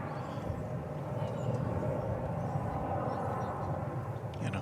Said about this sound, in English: It's going to be a 787 Dreamliner coming in from Frankfurt.